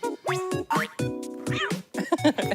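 Cartoonish cats meowing in a Nintendo video game, several bright, pitch-bending mews in quick succession over a busy game soundtrack with plinky musical tones.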